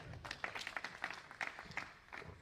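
Scattered, faint applause from an audience at a poetry gathering, a few distinct claps rising and falling irregularly rather than a full ovation.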